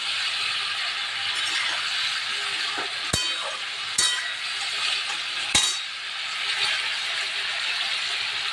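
Potatoes and pieces of parshe fish sauté in a pan for a green chilli and onion curry. A steady, close sizzle runs throughout, broken by three sharp clinks of a utensil against the pan.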